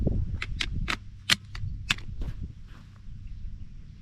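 A Henry Long Ranger Express lever-action carbine fires at an outdoor range, with several sharp cracks spaced out amid clicks and handling noises over quiet background rumble.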